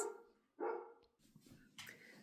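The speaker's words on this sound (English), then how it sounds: "the neighbor's dog decided to start barking" A neighbor's dog barks in a few sharp bursts at a moderate distance, with quieter gaps and some yips between the louder barks, and no talk over it.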